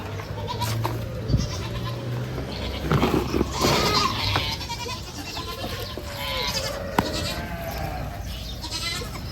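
Goats on a date farm in Dubai bleat several times at irregular intervals, some calls close and loud, others softer, over a background of low outdoor noise.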